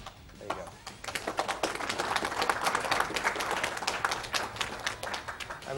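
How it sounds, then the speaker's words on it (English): An audience claps at a live speedrun event for Metal Gear Rising: Revengeance, with dense applause that swells and then holds steady from many hands in a large hall. "So you can applaud that one."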